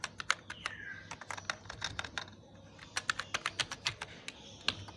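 Rapid, irregular clicking of computer keyboard keys as Python code is typed, heard close and alone, in short bursts with a brief pause in between.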